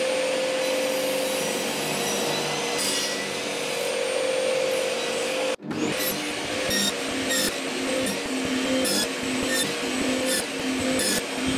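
A power saw fitted with a new blade cuts wood while building a workbench, a loud continuous whine and rasp with a brief cutoff midway before cutting resumes with rhythmic strokes, no talk.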